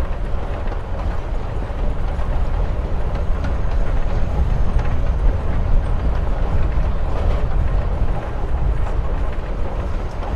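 A train ride in the video game Life is Strange Before the Storm gives a loud, continuous low rumble with steady rolling noise and no clear breaks.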